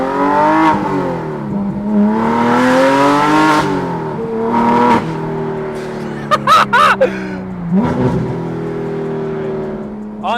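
A Porsche GT3 Touring with a manual gearbox and a DeMan-built 4.5-liter engine revs deep and throaty from inside the cabin, rising and falling through several pulls with brief sharp blips and shifts between.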